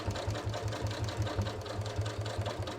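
A sewing machine stitches through the front waistband of ready-to-wear denim jeans, a fast, even mechanical whirring and thumping rhythm that runs steadily without voices.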